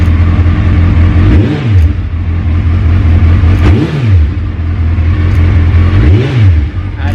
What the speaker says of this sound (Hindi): चलो छोटा सा एक रेव करते हैं और कैसी आवाज़ आती है सुना दो।